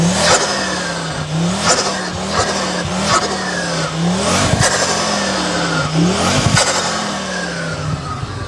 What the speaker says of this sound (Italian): Faccio sentire un po' l'aspirazione e lo scarico, vai.